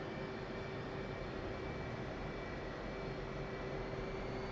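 An F/A-18C Hornet jet flies in the DCS World flight simulator over the Nevada map, its engine a steady, even roar with no talk.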